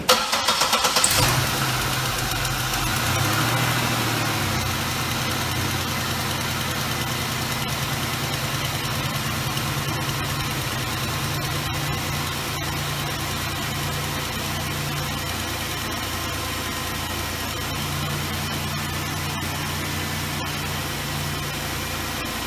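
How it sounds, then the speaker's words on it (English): Car engine cranks briefly and catches with a loud burst, then settles into a steady, even mid-pitched idle that hums on alone for the rest of the time. "get a first-hand shot of the car starting up"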